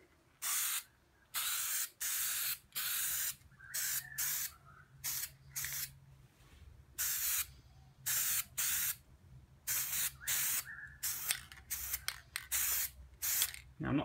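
A car grille gets spray painted black with an aerosol can, set on the ground beside a shed. Many short close hissing bursts repeat in an uneven rhythm, with brief pauses between them.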